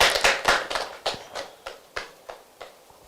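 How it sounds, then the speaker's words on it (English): A few people clapping at an e-learning academy live event, a thin and sparse scattering of claps with separate beats that thin out over a few seconds. "a round of applause for Ola Ogunyemi"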